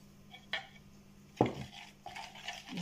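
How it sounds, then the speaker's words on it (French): A utensil stirs sugar into chocolate banana tart mixture in a bowl, with a few distinct clinks and scrapes against the dish, close and moderately quiet, and no voices. "Je mélange bien"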